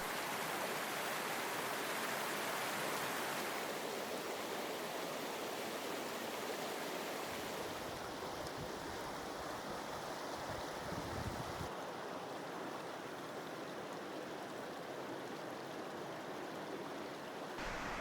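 A creek flows steadily in a scenic outdoor spot, a continuous broad rushing and burbling of water at moderate level with no voices.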